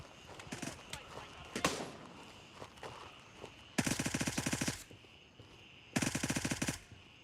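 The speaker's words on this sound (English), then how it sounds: "There we go. Mag dump time. Mag dump city, baby." A rifle magazine dump in the Gray Zone Warfare shooter: two long, evenly spaced bursts of close automatic fire, each lasting about a second, after scattered footsteps, clanks and movement noise.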